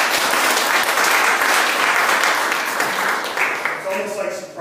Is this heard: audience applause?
yes